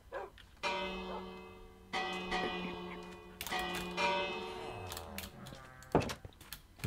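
A village bell in Minecraft rings during a raid, several bright metallic clangs spaced irregularly with long ringing tails, moderately loud, mixed with faint villager and animal game sounds.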